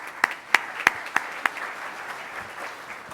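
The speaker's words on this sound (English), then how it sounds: "let's give yourselves a round of applause" A handful of distinct, sharp claps ring out at a Rotary Club event, about five spaced beats, then fade into a soft room murmur.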